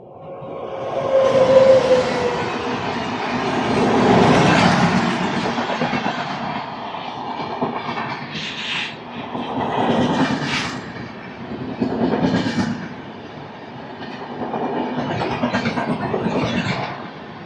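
Andhra Pradesh Superfast Express passenger train runs along the rails, heard from inside with a continuous rumble and recurring swells of rhythmic wheel clatter; no one speaks.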